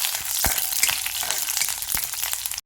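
Chopped onions hiss and crackle in hot oil in a pan with green chillies, a steady close sizzle broken by a few sharp spatula scrapes and clicks.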